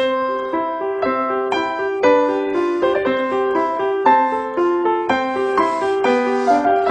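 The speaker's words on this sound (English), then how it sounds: "what a 7-year-old child sounds like when he plays the piano" A 7-year-old child plays a simple piano melody, single notes struck one after another at an uneven, careful pace, clear and close.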